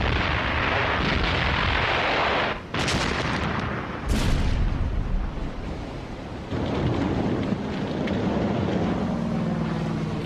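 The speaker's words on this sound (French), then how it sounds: "les U-boats opèrent en surface, coulant leur proie à l'aide du canon situé sur leur pont" Heavy booming deck cannon fire from a surfaced World War II U-boat in the Battle of the Atlantic, repeated loud blasts with long rumbling decay, dense and continuous with no voices.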